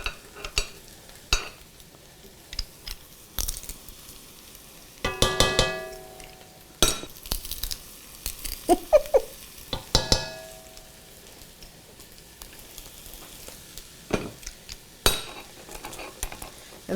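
Minced garlic sizzling in a pan of a hearty white bean and vegetable soup, with a soft steady fry beneath intermittent scraping and clinking of a utensil stirring against the pan.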